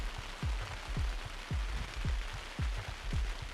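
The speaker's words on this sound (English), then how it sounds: "Rain's really coming down here." Heavy rain falls steadily on an outdoor show jumping arena, a constant broad wash of noise with regular low thumps repeating about every half second under it.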